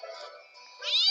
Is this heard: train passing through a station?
no